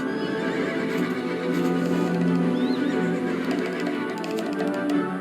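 Horses whinny and neigh over and over in Black Desert Online's Balenos region, balking at hungry wolves stalking through the grass, with faint hoof clip-clops mixed in under a steady, close game soundscape.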